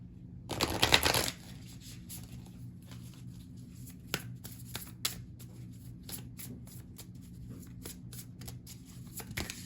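Tarot cards shuffled by hand, a dense riffling burst near the start followed by softer intermittent card taps and slides, close and quiet, with no talking.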